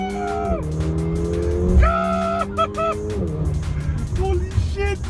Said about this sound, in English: Engage launch control and feel all 4 wheels spinning